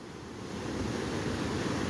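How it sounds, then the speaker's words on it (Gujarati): Rough sea in bad weather, with high waves tossing small boats up and down; a steady, loud wash of surf and wind noise runs throughout, with no voices. "દરિયા અંદર થોડાક મોજા વધારે જોવા મળે છે"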